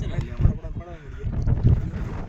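Gusty cold wind buffeting the microphone in uneven low rumbles near Junagadh, with a voice faintly speaking underneath.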